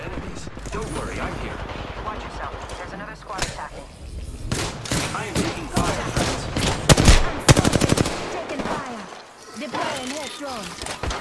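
Bursts of automatic gunfire from a rival squad in the Apex Legends battle royale, rapid and loud, clustering thickest in the middle of the stretch amid mechanical clatter and game voices.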